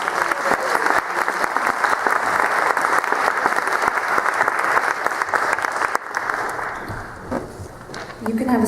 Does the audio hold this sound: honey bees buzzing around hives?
no